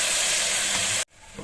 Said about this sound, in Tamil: இப்போ இந்த தக்காளியும் போட்டு வதக்கிக்கலாங்க.